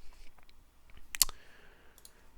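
Mouse clicks in simulation software on a computer: a few sharp clicks cluster near the middle, with one louder double click, over a quiet room with light background noise.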